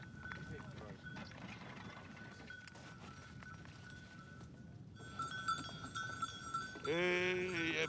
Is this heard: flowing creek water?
no